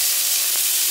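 Ginger and preserved radish stir-fried in a wok, giving a steady, loud sizzle with soft stirring scrapes throughout.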